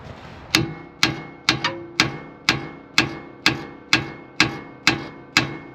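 Around a dozen evenly spaced metallic taps from a hammer striking the rear steering arm of a Ford F250, moderately loud and fairly quick, each hit short and clanking, with no speech.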